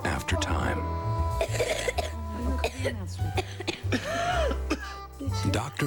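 A child coughs several times in short, hacking bursts amid throat clearing in a Robitussin cough medicine commercial, close and loud, with speech mixed between the coughs.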